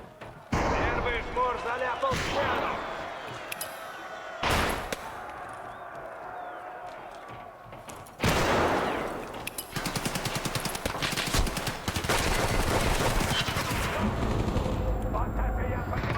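Bursts of gunfire in the video game Escape from Tarkov Arena on an airfield map, loud sharp volleys and rapid automatic fire separated by short lulls, with a voice talking in between.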